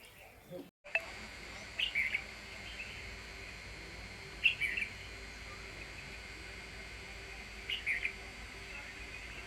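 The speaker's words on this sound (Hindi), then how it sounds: "जब हम दूर हो जाते हैं तो इतने सारे तोते आ जाते हैं यहाँ पर" Several bird calls chirp in short bursts from parrots gathered at an ashram on the Narmada riverbank, with faint insect hum and steady outdoor background noise between them.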